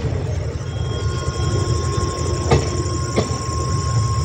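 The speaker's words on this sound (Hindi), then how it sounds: "देखिए ट्रेन टर्न लिया, कितना अच्छा लग रहा है अपनी ट्रेन देखने में।" A train rolls along a railway track on a doubling line under construction between Pratapgarh, Janghai and Jaunpur, a loud continuous rumble with rhythmic wheel clatter and two sharp metallic squeal-clanks, heard close by.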